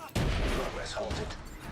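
Video game gunfire, a sudden loud burst of shots that continues as a dense rattle for a second or two, with a voice underneath.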